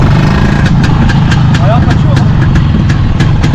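A vehicle engine idles and revs as throttle is given, running loud and close the whole time with a rapid ticking pulse on top, while people talk nearby.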